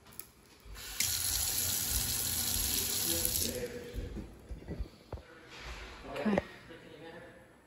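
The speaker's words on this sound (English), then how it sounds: "Looks like the sprinklers run all the way around the house." Lawn sprinklers around a house spray water in a steady hiss for a few seconds before easing off, while people talk nearby.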